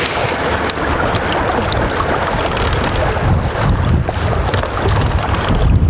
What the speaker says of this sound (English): You can probably see it's quite rough today,